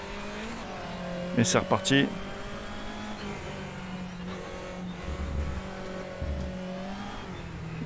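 A race car engine in the RaceRoom video game hums steadily while a driver talks over it, with a short burst of higher tones and low thumps partway through as the car accelerates again.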